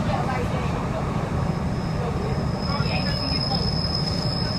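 Steady rumble of a moving passenger train from inside the back carriage on the Lincoln to Peterborough line, close and constant, with a faint high whine from the wheels or motors.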